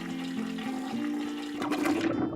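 A toilet flushes with a short rushing gurgle of water that swells, then cuts off abruptly, set over a soft sustained musical tone.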